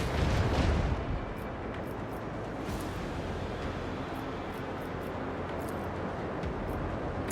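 A macro cannon volley in the Warhammer 40000: Rogue Trader space combat game opens with a heavy booming blast, then settles into a sustained rumbling roar with faint crackles.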